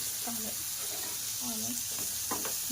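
Big brinjal pieces being flipped on a tawa give a low continuous sizzle and hiss, punctuated by brief scraping taps, with a voice speaking in short phrases over it.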